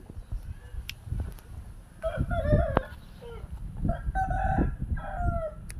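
Natu Kodi fighting roosters crow and cluck close by on a village farm, in several overlapping calls at moderate level against low background rumble.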